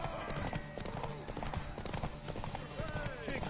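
Horse hooves clip-clopping in The Witcher 3 video game, a quick rhythmic gallop under shouted voices and game music.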